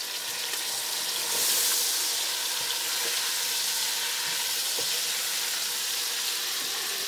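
Chicken pieces fry and sizzle in a pot of oil for Indian chicken biryani, a steady broadband hiss close by with faint crackles, alone and continuous throughout.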